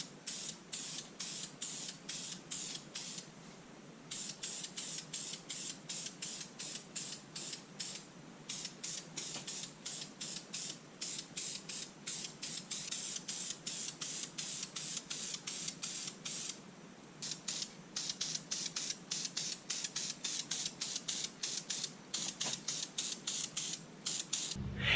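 Rapid bursts of aerosol wrinkle paint hiss onto a Miata valve cover, in a fast, regular pulsing rhythm that continues for the whole stretch, close and steady with no talking.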